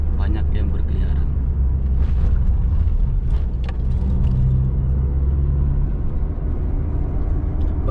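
Busy car traffic on a street in Makkah, a continuous loud rumble of passing vehicles with engine noise throughout, while someone talks over it.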